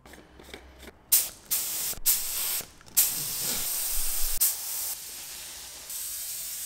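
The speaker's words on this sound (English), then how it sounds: "Just the thing for it. Paint sprayer. Teensy paint sprayer." A small paint sprayer with an untaped air fitting hisses steadily in broadband bursts, starting with short puffs and then running as a continuous loud spray of leaking air, close up with no voices.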